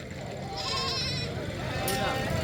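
Goats bleat in short wavering calls amid the busy crowd at a goat market, with people talking nearby over the bustle.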